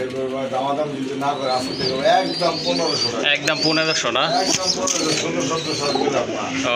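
Pigeons coo steadily in the background while someone talks over them, the soft throaty calls overlapping throughout.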